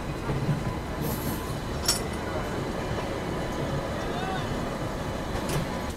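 A passenger train pulls out on a rail journey to Ayodhya, a steady rumble of wheels and carriages with a few brief high squeals, heard from on board with voices faintly mixed in.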